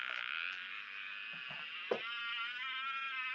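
A scintillometer radiation detector held over a sediment-hosted uranium outcrop gives off a steady, faint, high warbling tone that pulses slightly throughout, with a soft click near the end.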